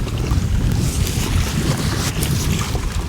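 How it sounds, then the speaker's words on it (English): Strong wind roars and buffets across open freshwater around a fishing kayak, a loud steady rush with gusty microphone rumble and no voices. "Boy, that wind is kicking up now."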